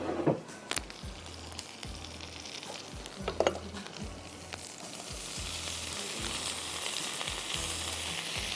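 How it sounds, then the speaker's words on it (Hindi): Garlic and vegetables frying in a hot pan give a continuous crackling sizzle, broken by repeated scraping stirs and a few sharp bursts of spatter, close and fairly quiet, with no talking. "ज़रा सा गार्लिक फ्राई हो जाएगा तो हम इसमें वेजीज डाल देंगे।"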